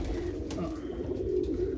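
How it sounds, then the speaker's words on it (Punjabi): Large brown pigeons coo nearby, soft, low, rolling calls repeating steadily over faint background noise. "ਇਹ ਵੱਡਾ ਕਬੂਤਰ ਆ"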